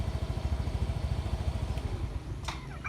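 A motorcycle fitted with a GPS tracker and kill switch idles close by with a steady, rapid low putter, ending in a brief clatter near the end.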